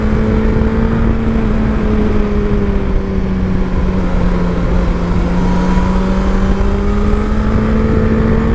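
A 2024 Suzuki GSX-S 1000 GT sport-touring motorcycle engine drones steadily while riding, its pitch slowly dipping and rising with the throttle, loud and close over constant wind and road rush.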